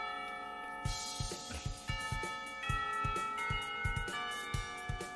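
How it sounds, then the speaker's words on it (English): A school lunch bell chimes as a visual novel sound effect, ringing sustained tonal notes over a steady ticking pulse of soft knocks, clear and moderately loud, with no voices. "Not a minute too soon, the lunch bell rings."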